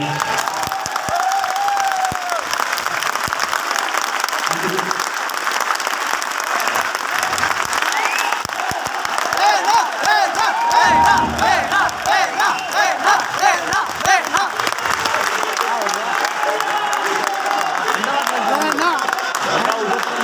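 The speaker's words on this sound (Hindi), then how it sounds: "लेडीज एंड जेंटलमैन, तालियों से इस्तकबाल करें।" Auditorium audience at a live program in New Delhi gives sustained applause with cheering and whoops, a dense crowd roar that holds steady throughout at close range.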